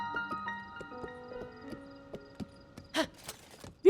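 Horse hooves clip-clopping in The Legend of Zelda: Tears of the Kingdom, a few sparse, soft steps on stone near the Temple of Time, heard under quiet tonal game music with a louder thump at the end.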